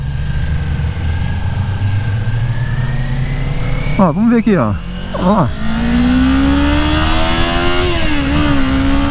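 A 2022 Kawasaki Ninja 400 motorcycle engine drones steadily, then rises in pitch as it revs up, loud and close while a rider speaks briefly over it.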